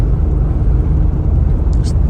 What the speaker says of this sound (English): Inside cabin noise is good.